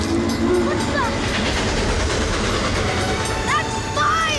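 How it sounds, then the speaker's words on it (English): A train rumbles steadily along the rails as it approaches, with a continuous loud rolling clatter and a few brief high squeal-like tones over it. "The train is coming."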